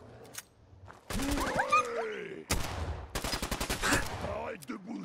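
Gunfire from a hard-recoiling weapon in Fallout 4, with bursts of rapid shots in quick rhythmic strings separated by short pauses, loud and close, along with game sounds and brief creature-like cries.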